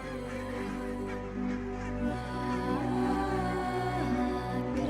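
Migrating geese honking and calling in the Scottish Highlands as winter nears, overlapping calls layered over a steady background hum, moderately loud throughout.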